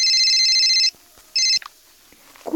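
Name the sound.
phone ringtone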